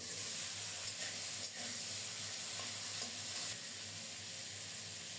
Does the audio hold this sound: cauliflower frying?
yes